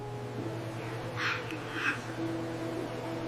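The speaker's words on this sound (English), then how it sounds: "Let me introduce you to the star of the store, the African Grey Parrot." An African Grey Parrot in a store gives two short bright calls at close range, over a steady low electrical hum.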